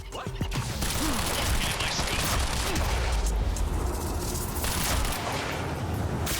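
Gunfire from the action video game Quantum Break: dense, continuous bursts of shots and clattering impacts fill the whole stretch at close range, with no talk.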